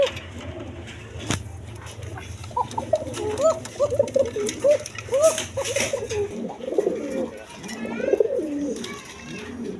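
A male red Gorra pigeon coos repeatedly up close, its throaty rolling calls arriving in a steady series, with faint background noise and other birds chirping softly.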